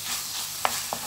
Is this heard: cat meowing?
no